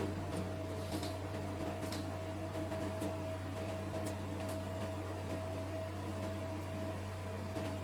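An NS-H15 machine starts working with a steady mechanical hum and whir, constant and fairly loud, with faint intermittent clicks over the drone.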